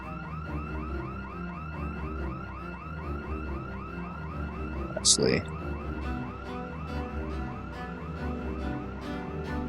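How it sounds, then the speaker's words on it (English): A car alarm in the zombie video game Project Zomboid cycles steadily through a rapid, repeating wail, with a brief sharp clank in the middle and someone talking quietly over it. "any of them that were nearby are gonna hear that alarm and go to that alarm"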